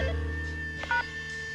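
A push-button telephone is dialed, giving a brief electronic dial tone over a steady background hum and soft music, all short and close.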